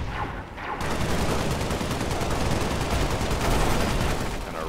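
Rapid gunfire in the Halo Spartan Assault video game runs as a dense, continuous burst of shots for several seconds, loud and close, with no talking.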